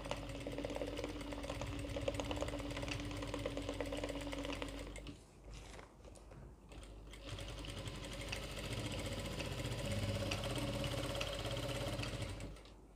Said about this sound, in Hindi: और ये सिलाई लगा लेंगे